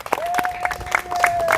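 A church congregation cheers and applauds for God in a brief, lively burst of clapping and shouting, with a sustained tone running underneath and voices mixed in.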